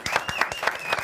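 Audience applause with bursts of clapping swelling and fading in rhythmic pulses, fairly close and moderately loud, with no speech over it.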